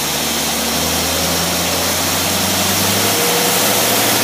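A Cadillac engine fitted with a Carter AFB carburetor runs steadily and loudly up close, a continuous deep rumble with no voices over it.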